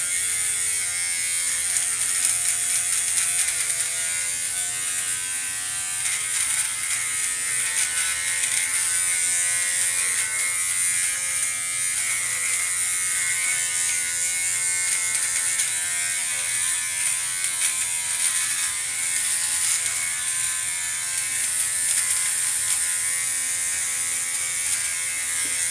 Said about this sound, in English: get your nose hair remover